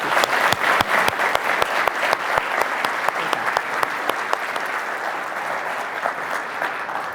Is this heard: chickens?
no